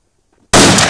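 Four pounds of tannerite detonating inside a mini fridge outdoors, heard as a single sudden, loud, muffled blast after near silence, with a sustained roar trailing off.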